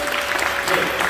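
Brief burst of steady congregational clapping in a church service as mission teams are sent off, dense and continuous throughout.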